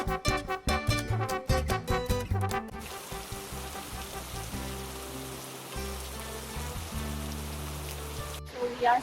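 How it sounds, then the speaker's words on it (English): Heavy rain pours down in George Town on Penang Island, Malaysia, as a steady, dense hiss. Brief rhythmic tonal sounds come at the start and return near the end. "So we are stuck in rain and it is raining heavily."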